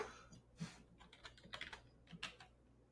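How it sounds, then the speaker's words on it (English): Computer keyboard typing in short bursts of quick, light keystrokes with brief pauses, fairly close and alone, as a search term is entered on a shopping site. "we're going to type in"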